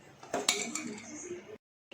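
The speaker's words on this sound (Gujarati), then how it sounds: "તેને આ રીતે હલાવતા રહેવાનું છે સતત" A spoon clinks and scrapes against a pot of milk being stirred as it boils, with a few sharp metallic knocks and a steady scraping that then stops.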